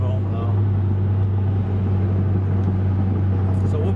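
Interior drone from a Porsche 996 Turbo with a Fabspeed exhaust above 2,000 RPM: a steady, low, humming boom filling the cabin, constant and unbroken, with someone talking over it.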